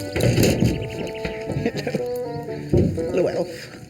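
Goats on a Yorkshire farm bleat in wavering, drawn-out cries, close and loud, overlapping with people talking and a few soft knocks.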